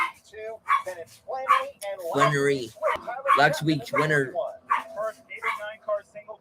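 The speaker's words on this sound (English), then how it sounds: "Sorry for the dogs in the background, guys. They're going crazy." Dogs barking and yipping in the background, excited and repeated in irregular bursts, heard under someone talking throughout.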